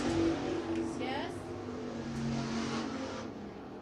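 IMCA hobby stock race cars run hot laps at Dawson County Raceway, engines droning and revving at a distance in a continuous wash of motor noise, with an announcer's voice speaking over the track.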